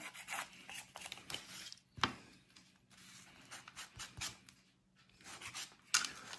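A clock part is sanded by hand in close, uneven strokes, with rasping scratches of irregular rhythm and a couple of sharper scrapes standing out, no voices.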